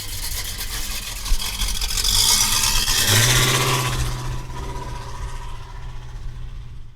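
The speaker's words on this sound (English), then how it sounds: "All right, let's take this Le Mans convertible for a ride." A 1964 Pontiac Le Mans convertible with a 455 engine runs steadily and close by, its low rumble building briefly before easing back to a smooth idle-like drone, with no voices.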